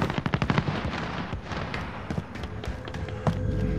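Rapid gunfire from a Call of Duty Modern Warfare match, a fast burst of sharp cracks up front, then scattered shots and clatter over a steady game background, fairly faint, with no talking.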